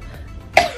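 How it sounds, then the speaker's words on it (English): A single short, harsh cough, close and fairly loud, from a woman with a sore chest, heard alone. "I have the worst cough."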